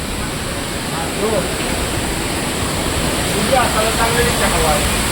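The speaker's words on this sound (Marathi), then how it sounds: "जोरात पाऊस आहे" Heavy monsoon downpour with strong wind in Maharashtra, a loud, continuous roaring wash that swells slightly toward the end, while faint voices talk underneath.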